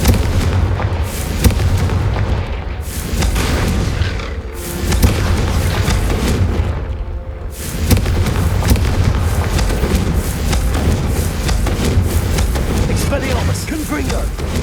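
Confrigo fire spell blasts in the wizarding game Hogwarts Legacy, fought in the Undercroft: dense, repeated booming bursts and crackling impacts fill the whole stretch, with short dips between volleys.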